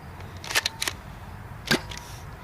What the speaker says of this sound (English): so now we're shooting the Buzby Wizard with normal elite darts